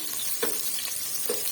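Sliced onions brown in oil in a pot over low heat for mutton biryani, a soft continuous sizzle broken by two brief scraping stirs, close up with nobody talking.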